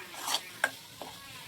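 Food is stirred in a pan on a gas stove, with a few separate scraping strokes over a faint background sizzle, quiet and close.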